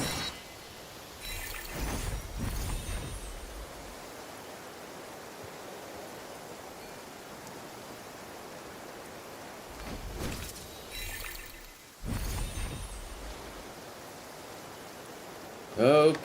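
Rain falling in the open-world game Genshin Impact, an even, continuous hiss that persists throughout, broken by a couple of short louder bursts of other sound and brief talk.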